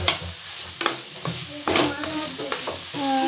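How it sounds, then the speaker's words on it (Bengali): Food frying and being stirred in a home kitchen pan ahead of adding jaggery for a Lakshmi Puja dish: a steady sizzle with repeated scraping stirs and clinks that come in short bursts, close and fairly loud. "এখনো ভাজা ভাজি চলছে"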